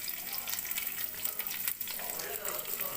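Onion and green chilli sizzle and crackle in oil in a pan with curry leaves while pepper chicken is being cooked, a steady close frying hiss with faint light scraping and no talk.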